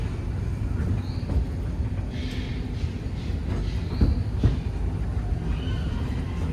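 A theme-park railway train on a grand circle tour rumbles steadily along its rails, a continuous low rolling noise with faint squeals and a few wheel clicks, loud and close, no voices.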